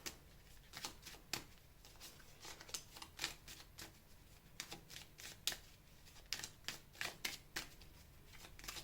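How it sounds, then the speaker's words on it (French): A deck of tarot cards is shuffled close by in repeated quick riffling bursts, each a crisp flutter, with short pauses between them and a faint room hush behind. "Allez, je brasse le deuxième jeu"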